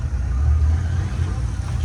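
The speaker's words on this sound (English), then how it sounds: "As you can see, the engine has been started." A high-mileage car engine runs after being started, a steady low rumble throughout with a strong low hum, while a person talks nearby.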